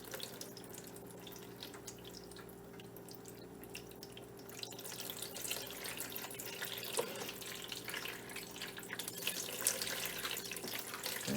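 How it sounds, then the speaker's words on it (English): Coconut milk strained and squeezed from grated coconut, with trickling, splashing liquid that starts softly and grows steadier and louder as the pulp is wrung out close by. No one speaks. "I'm just gonna go ahead and squeeze it so I can get all my milk out."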